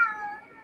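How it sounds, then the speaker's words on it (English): A house cat gives one drawn-out meow, close and fairly loud, fading gradually over under a second with no talking. "Which cat's meowing now?"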